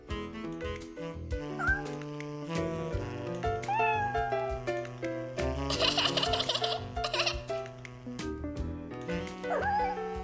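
A cartoon kitten mews over a busy musical soundtrack while batting at a shoelace dragged across the floor, its short calls rising above steady background music and effects.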